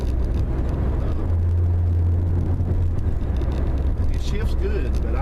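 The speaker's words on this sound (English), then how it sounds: "I can tell this one shifts different from the one that was in the Protege." A 2000 Ford Focus wagon hums along in a dense, steady drone of engine and road noise, heard from inside the cabin, with a pitch change as it shifts gears and a voice talking over it.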